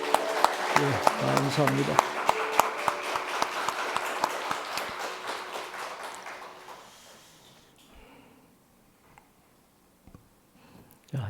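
A church congregation applauds at an anniversary worship service, a burst of clapping that fades out over several seconds into near quiet, with a voice speaking over the start.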